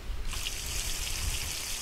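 A tap runs in the video game The Long Drive, a steady close trickle of water that starts after a brief moment and flows evenly throughout.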